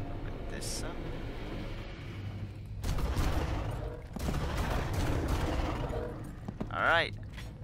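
Gunfire from the shotgun in the first Far Cry game, several sharp blasts in bursts across the clip, set against continuous game ambience and engine-like rumble, with someone talking over it.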